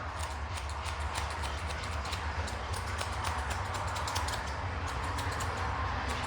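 Rapid, light clicking snips of small scissors trimming a Chihuahua's fur repeat steadily over a low background hum, close and fairly quiet.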